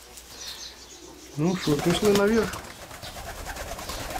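Decorative pigeons in a rooftop pigeon loft give soft cooing calls and brief wing flaps close by, while someone speaks briefly over them.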